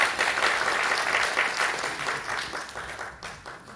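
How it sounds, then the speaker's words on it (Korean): Audience applause welcoming a speaker at a Korean democracy forum opening ceremony, a dense, steady crowd clapping heard alone, fading slightly toward the end. "뜨거운 박수로 맞아주십시오."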